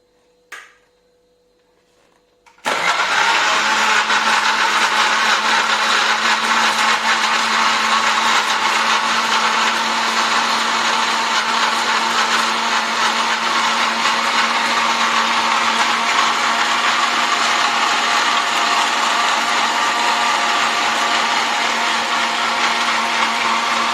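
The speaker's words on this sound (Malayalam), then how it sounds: "നമുക്കിതൊന്ന് അടിച്ചെടുക്കുക" A blender whirs steadily as it blends pomegranate juice, a loud, constant motor drone starting abruptly after a few seconds of near silence and running unbroken for the rest of the clip.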